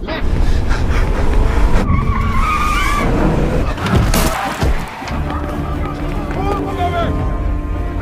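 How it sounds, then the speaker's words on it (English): Tires squeal and skid loudly as a Special Forces car races past and hits a man, followed by a heavy thud, with engine roar and a voice talking over the commotion. "Amar was dying after being hit by a Special Forces car."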